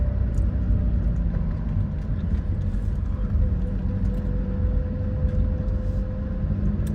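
Chevy 454 truck doing a wheel peel, a loud, steady, deep engine roar held without letup, with a faint high whine running under the rumble.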